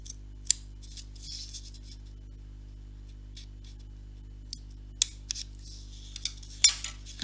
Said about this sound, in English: now we're going to cut down our lines to make our petals